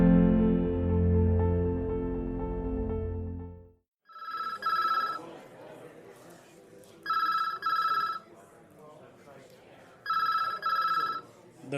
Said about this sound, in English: The phone rings yet again in the busy precinct.